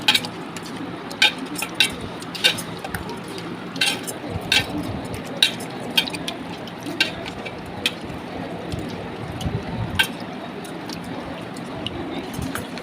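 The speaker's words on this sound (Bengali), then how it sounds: "এখন ভালো করে মিশিয়ে আমি ম্যারিনেট করে রেখে দেবো কিছুক্ষণের জন্য।" A spoon clinks against a bowl while chicken for biryani is mixed with spices, tomato sauce and lemon juice, a steady rhythm of soft, close metallic taps and wet scraping with no talk.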